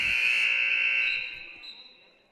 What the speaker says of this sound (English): Second buzzer.